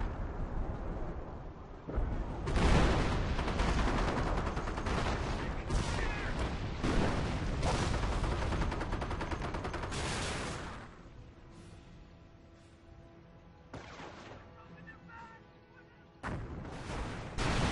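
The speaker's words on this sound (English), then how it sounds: "And there the mortar gets 2 more kills." Mortar fire in a war video game, repeated loud booming blasts and rumbling impacts in bursts, with quieter stretches of crackling battle noise between them.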